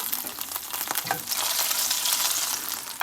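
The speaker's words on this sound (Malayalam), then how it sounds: "നമ്മൾ ചെമ്മീൻ ഫ്രൈ ചെയ്ത പാനിലേക്ക് കുറച്ച് ഫെനൽ സീഡ്സ് ഇട്ട് കൊടുക്കുന്നു, പെരിഞ്ജീരകം" Fennel seeds frying in hot oil in a pan just used for frying prawns, a loud, steady close sizzle with a faint stir or clink early on, with no speech.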